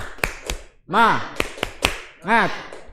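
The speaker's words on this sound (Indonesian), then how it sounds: "Kurang semangat nih, coba tepuk semangat." A classroom of children claps a rhythmic spirit clap in a short patterned sequence, sharp hand strikes mixed with voices chanting along in a sing-song way, close and fairly loud.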